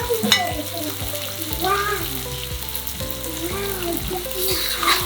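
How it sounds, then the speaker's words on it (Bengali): Fried shrimp tipped into a pan of tomato curry, giving a loud close sizzle with clattering stirring strokes and scraping throughout, plus light watery bubbling. "এই সময় আমি ভাজা চিংড়ি মাছগুলো দিয়ে দিব"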